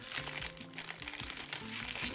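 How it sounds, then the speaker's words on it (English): Crinkling plastic bag being pulled off a plastic model kit runner for a Real Grade RX-78-2 Gundam, a steady close rustle and crackle lasting about two seconds with faint background music. "I'm just unwrapping. It's like unwrapping a gift."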